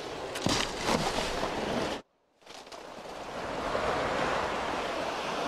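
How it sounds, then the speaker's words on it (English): Ocean waves at night in the film Cast Away: a loud, close roar of surf and wind, cut by a sudden near-silent gap before the crashing water swells back. "Look at these waves."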